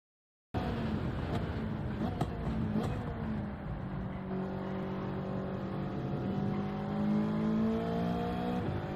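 A race car in Gran Turismo 7 accelerates through a fast lap at Deep Forest Raceway, its engine note climbing and shifting steadily at moderate volume, with brief clicks near the start.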